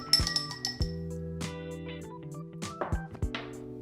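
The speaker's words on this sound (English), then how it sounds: "I've got a bar spoon of simple syrup, and I'll stir that in" Bar spoon stirring simple syrup in a cocktail glass, producing a series of bright, ringing clinks of metal against glass, irregularly spaced and close, with lingering tones between strikes.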